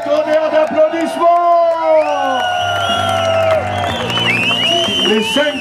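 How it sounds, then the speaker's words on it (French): A crowd at a custom motorbike show in Vendays-Montalivet, France, whoops and cheers with some clapping, while a loud amplified announcer talks over it, with music and tonal sounds layered on top. "tonnerre d'applaudissements"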